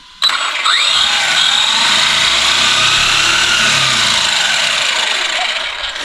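An Arrma Granite 3s BLX brushless RC car motor whines loudly at half throttle, a sustained high electric drone that holds nearly constant for several seconds before tapering slightly at the end.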